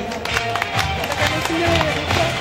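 Clapping from an audience at a children's charity contest, greeting the youngest participant and winner; a steady patter of many hands with crowd noise, and a voice speaking over it.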